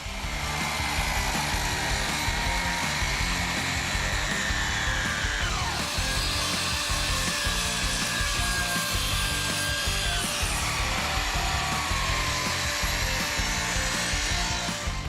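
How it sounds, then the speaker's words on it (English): Makita HS06 270mm electric saw cutting through wood, giving a steady, continuous loud rasping and whining cut that holds for the whole stretch, with a pitch shift partway through and no voices. "the Makita HS06 270mm electric saw is a great choice for workers who like quiet."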